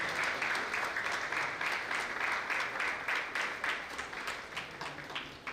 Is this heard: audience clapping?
yes